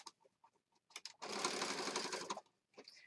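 A sewing machine stitches around a junk journal embellishment in one quick, close burst of fast whirring, with soft handling clicks before and after.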